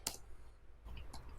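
Enter key pressed on a computer keyboard, a faint sharp click followed by a softer second tap, brief and close in a quiet room.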